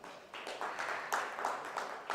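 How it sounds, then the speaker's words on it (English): Conference audience at a bioenergy summit applauding a panelist's introduction, faint and distant clapping in uneven bursts that swell and fade over a couple of seconds. "A round of applause, please."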